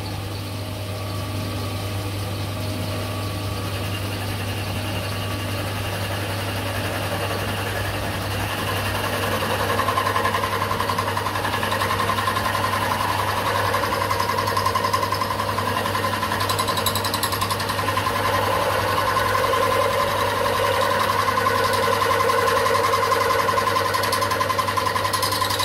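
RF-30 mill-drill spindle taking a shallow cut in metal, about one millimetre deep: a constant low motor hum with a whirring, grinding tone that grows a little louder partway through.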